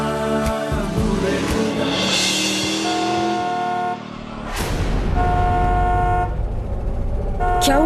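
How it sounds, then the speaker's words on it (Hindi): A car horn honks repeatedly in short bursts, steady and fairly close, over a busy backdrop of music and street noise, in a TV drama scene. "आप ऐसे बार बार हॉर्न क्यों बजा रहे हैं?"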